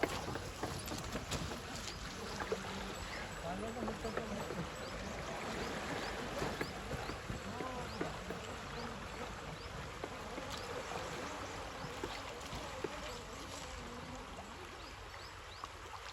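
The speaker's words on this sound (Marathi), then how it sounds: "ऑफ रोडिंग करायची मला या पाण्यातून" A vehicle drives off-road through water on a farm, with sloshing and splashing as it pushes through and a steady wash of sound at moderate, fairly quiet level.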